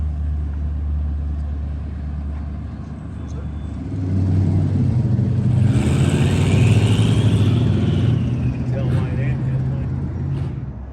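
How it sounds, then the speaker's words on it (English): A very small car drives past on a road in New Mexico, its engine hum swelling louder and nearer in the second half, then easing as it goes, with people talking over it. "That's like the littlest car I've seen."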